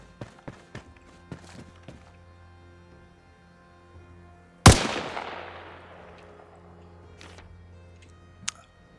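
A single loud, close shot from an M27 IAR firing an AP round at a metal gate in Arma Reforger cracks out, with a long ringing decay and scattered faint clicks and ticks before and after it.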